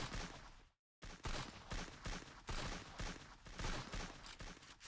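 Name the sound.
gunshots in the video game Free Fire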